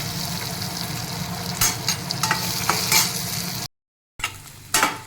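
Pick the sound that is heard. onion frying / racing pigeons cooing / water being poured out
onion frying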